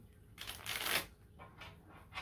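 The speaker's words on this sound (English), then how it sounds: "Mommy will shuffle." UNO cards are shuffled by hand at home, giving soft riffling bursts of card noise, one longer burst then shorter ones, fairly quiet and close.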